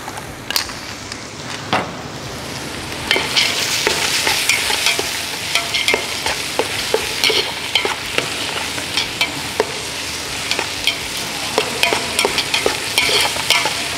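Cashews fry in a pan alongside melon seeds for ash gourd halwa, with a continuous sizzle under frequent stirring scrapes and clicks of a spoon against the pan, close and fairly loud, with no talking.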